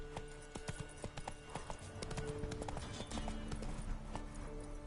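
Roach the horse gallops in The Witcher 3, a steady rapid clip-clop of hooves sounding close and loud, with game music and ambient effects underneath and no voices.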